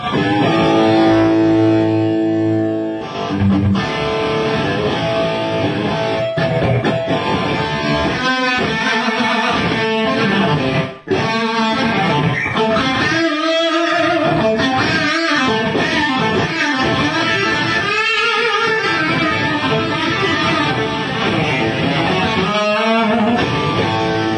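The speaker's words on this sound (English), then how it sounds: "if we bring the gain back, we can get more of your vintage style plexi sound" An electric guitar plays through a crunchy, overdriven Marshall amp with a vintage plexi-style tone, with chords and single-note riffs ringing loudly and continuously for the whole stretch.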